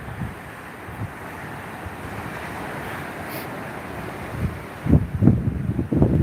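Small surf of about one foot breaking along a South Florida shore, a steady wash of water and wind noise with a few louder wave crashes toward the end.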